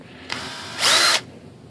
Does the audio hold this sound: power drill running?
yes